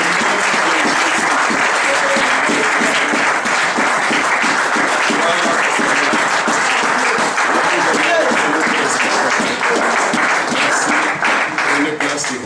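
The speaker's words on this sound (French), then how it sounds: "nous allons acclamer ce merveilleux" A church congregation applauds a married couple, steady dense clapping that fills the room loudly and continuously from start to finish, with cheering voices mixed in.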